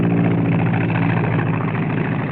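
A small tractor engine runs steadily at an Arctic camp site, a loud, continuous low rumble with no breaks and no talk over it.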